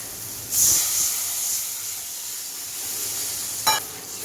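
Water hits hot oil and fried masala in a pan for a rohu fish curry, sending up a sudden loud hiss that settles into a steady sizzle, with another sharp crackle near the end.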